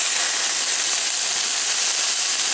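Spinach added to sautéed onion in a hot pan, giving a loud, steady, bright sizzle and hiss that stays even throughout, with no talking.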